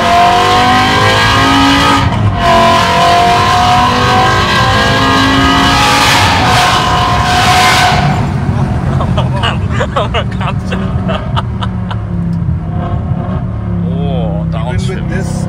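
A 2006 BMW M5 with a V10 engine revs hard and loud, the pitch climbing through several surges before it eases off into a lower rumble with clicks and rattles, heard over someone speaking.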